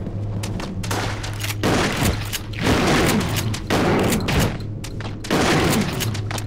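Rapid video game gunfire rattles in dense bursts with heavy booming hits, loud and continuous throughout, with no talk over it.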